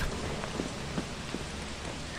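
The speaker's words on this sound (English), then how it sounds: "All I ever wanted was no more rain inside." Steady indoor rain in the Lethal Company video game, a constant broadband hiss of drops falling on surfaces with a few faint patters, no voices, uninterrupted for about two seconds.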